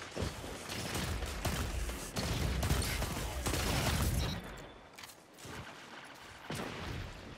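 Rapid gunfire from a weapon in the video game Destiny 2 rattles as dense, overlapping bursts for most of the stretch, easing briefly near the end before another volley.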